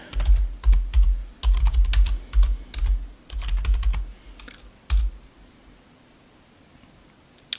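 Someone types an apt-get update command on a computer keyboard for about five seconds, with close, crisp clustered keystrokes. A single final tap follows, then quiet.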